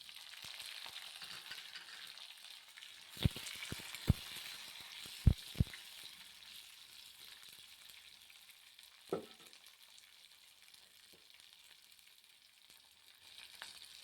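Garlic, green chilies and onion fry in hot oil for Andhra-style dal, a steady close sizzle with occasional sharp clicks and scrapes of stirring in the pan, no voices present.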